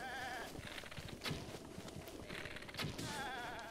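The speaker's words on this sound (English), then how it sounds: "Get back here, goat." Goat bleating in The Legend of Zelda: Breath of the Wild, several bleats in quick succession over a steady layer of game sound, fairly close and clear.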